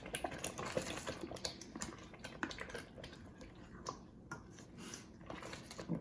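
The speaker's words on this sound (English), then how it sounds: "Be careful, it sizzles," Butter chicken sauce sizzles and bubbles in a hot pan, a steady crackling hiss with dense irregular pops running throughout, close and fairly quiet.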